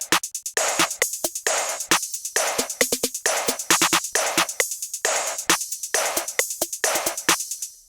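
Trap drum beat programmed in FL Studio, punchy kicks and snappy hits in a bouncing pattern with crisp hi-hats and an open hat ringing between them, loud and repeating for several bars.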